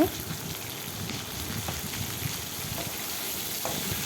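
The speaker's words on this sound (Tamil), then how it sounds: "இதெல்லாம் சேர்த்து நல்லா கொஞ்சம் கலர் மாறுற வரைக்கும் வறுத்து எடுத்துக்கலாம்" Green chili and spices sautéing in a pan for vendaikai puli kulambu, a steady close sizzle and crackle of oil running throughout with no talking.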